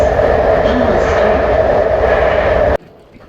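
A steady, loud rumble and roar of a San Francisco BART subway train riding along the tracks, heard from inside, fills the clip, cutting off abruptly near the end.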